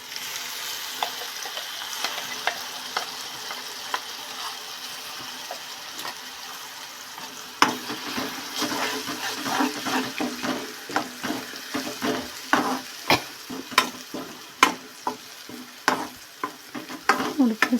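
A ground masala paste hits the pan for an eggplant masala dish and sizzles steadily, with a loud clack near the midpoint. Sharp spoon scrapes and clinks follow in a quickening irregular rhythm, close up, with no voices.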